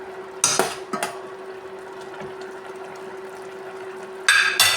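Chicken and koorka (Chinese potato) being stirred in a cooking pot for a stir-fry: a few sharp metallic scrapes and clinks of a spoon against the pot near the start and again at the end, with quiet simmering in between and no talk.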